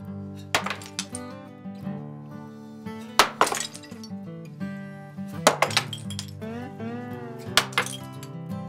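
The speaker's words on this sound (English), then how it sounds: "The first sound I heard when nearing his shop was the smashing of baked clay" Baked clay pitchers and plates smash against a wall at a North Carolina pottery shop. Several sharp, scattered crashes with clinking shards ring out over steady background music.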